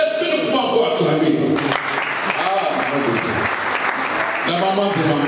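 Congregation at a church service applauding and cheering, a steady wash of clapping with voices calling out, sustained at even loudness for several seconds.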